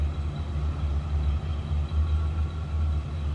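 A 1989 Cadillac Brougham sedan with a 5-liter V8 idles steadily, heard from behind the car as a low, even rumble with a smooth, continuous drone and no voices.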